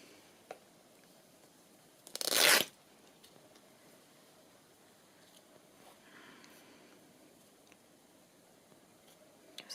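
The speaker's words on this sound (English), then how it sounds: "I might even tear it to size to make sure I get it right" A strip of fabric is torn to size for stamped tags and journal cards. One short, loud rip stands out against an otherwise quiet room with only faint small handling noises.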